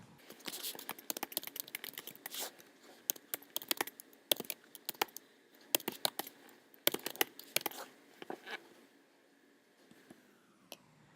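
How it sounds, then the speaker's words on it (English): Rapid plastic key presses on a graphing calculator as data values are entered, irregular bursts of close, crisp clicks with short pauses between runs, no voices. "we hit Stat, Enter, and then we type in our values"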